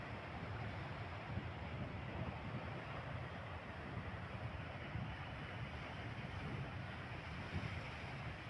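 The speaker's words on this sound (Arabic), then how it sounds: "شو المواج قديش" Ocean waves wash steadily onto the shore at Mohammedia, a continuous broad roar of surf mixed with wind buffeting the microphone, with no voices heard.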